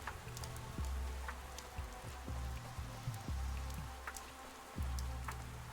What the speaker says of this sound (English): Just a puddle. It's really raining hard.